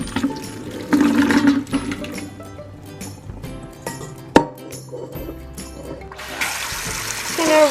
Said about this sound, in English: Gonna rinse it with cold water.